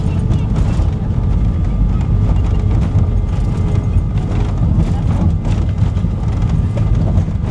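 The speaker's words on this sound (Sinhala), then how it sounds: "ඒකම ජෙට් එන්ජින් එක රිවර්ස් කරනවා." Jet engine reverse thrust as an airliner lands at Suvarnabhumi Airport, Bangkok, heard from inside the cabin as a loud, steady, low roaring rumble that holds without a break.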